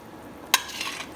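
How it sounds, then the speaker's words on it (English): Chopped zucchini dropped into a hot soup pot, a sudden close splash of sizzle that settles into a steady frying hiss. "So now I'm going to add my zucchini to it"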